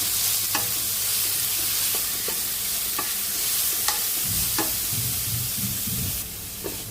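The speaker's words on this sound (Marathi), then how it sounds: "बारीक घ्यास करून परतवून घेऊया मी बारीक घ्यास करते थोडासा असं परतवून घेऊया" Ground coriander and moong dal paste sautéing in oil, a steady close sizzle with a spatula scraping and stirring through it at intervals, with no talk.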